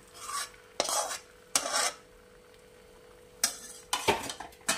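Vermicelli, custard vermicelli, is stirred into caramel in a pan, giving several sharp, scraping bursts with short quiet gaps between them, close and fairly loud, with no talking.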